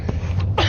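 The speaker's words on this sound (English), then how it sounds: "Pardon me with this cough." A person coughs twice in quick succession, close and fairly loud, during a live gaming stream.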